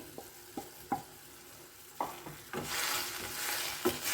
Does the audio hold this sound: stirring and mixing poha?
yes